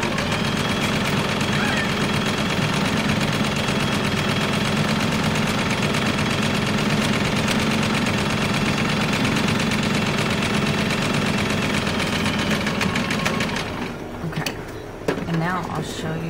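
A sewing machine runs continuously and close, stitching around an insulated sandwich bag with fleece, a dense steady motor drone that cuts off near the end, followed by faint handling noises.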